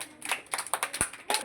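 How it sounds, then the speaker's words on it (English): A small group of children claps briefly in a primary-school maths class, a handful of sparse, uneven claps close by in a quiet room. "Okay, please clap for Ambika."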